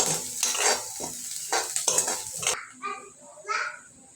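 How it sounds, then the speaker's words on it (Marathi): Onion and coriander with cumin sautéed and stirred in a pan, with repeated scraping stirs and a soft sizzle for the first half, then quieter clinks and faint sounds. "थोडीशी कोथिंबीर टाकू आणि कांदा परतून घेऊ"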